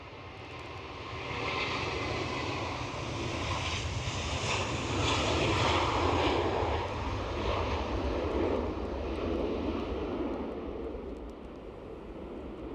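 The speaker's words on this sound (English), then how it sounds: "Turkish Airlines in Star Alliance livery, returning to Istanbul" A Turkish Airlines airliner in Star Alliance livery departs Edinburgh airport for Istanbul, its jet engines a steady, fairly distant roar that builds and holds across the stretch before easing slightly.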